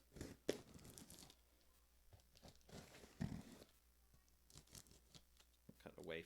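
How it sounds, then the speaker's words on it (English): Serrated knife slicing open a shipping package of outdoor gear, heard as close, intermittent tearing and crinkling scrapes in short bursts, with quiet speech in the gaps. "I always like to use a serrated knife for cutting open packages"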